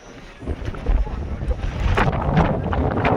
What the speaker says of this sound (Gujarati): ફૂલ પવન ચાલુ છે ઉપર